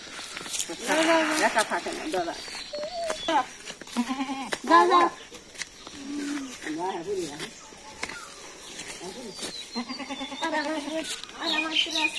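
A goat bleats repeatedly, the wavering cries mixed in with people talking close by.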